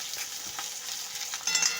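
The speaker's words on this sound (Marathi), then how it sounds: "तेल टाकलेलं आहे आता जिरं मोहरी टाकलेलं आहे त्याच्यामध्ये कांदा टाकूयात" Onions sizzle and crackle steadily in hot oil with cumin and mustard seeds, with a brief flare of louder spitting near the end; no voices.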